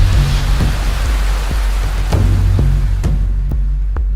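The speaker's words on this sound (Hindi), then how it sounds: "और ये देखिए बारिश की बूंदें भी शुरू हो गई" Rain starts to fall at a temple in Odisha, with scattered raindrops pattering in distinct taps over a steady low rumble and wash of noise, fairly loud and close.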